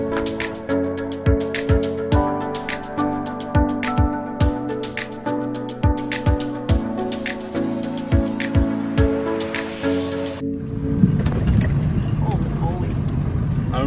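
An overland truck camper crawls up a steep incline on the Rimrocker Trail in four-low, first gear. A steady, close engine drone carries rhythmic thumps, then gives way to rougher, noisier rumbling near the end.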